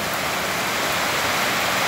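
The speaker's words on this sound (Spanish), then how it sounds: "Miren qué bonito llueve, está lloviendo." Steady heavy rainfall drums across a ranch in a stormy downpour, a continuous loud wash of noise with even intensity and no talking.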